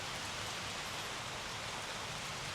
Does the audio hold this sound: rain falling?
yes